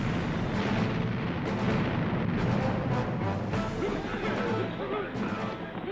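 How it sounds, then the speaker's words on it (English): Heavy booms from the USS Texas's 14-inch naval guns pounding shore batteries, repeated blasts in a dense, loud battle soundscape with rumbling aftermath between shots, close and overwhelming. "Her massive 14-inch guns pound German artillery batteries threatening the Allied landing assault."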